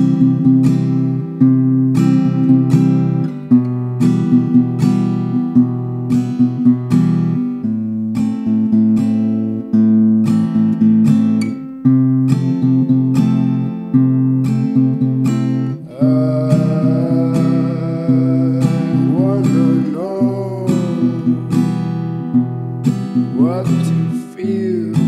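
Acoustic guitar plays the verses of a song, a steady repeating strum of ringing chords heard up close, with faint melodic slides entering in the second half and no talking.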